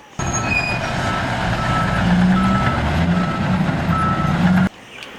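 A small dump truck runs with a loud, steady engine rumble and a high repeating reversing beep, close by, cutting off abruptly near the end.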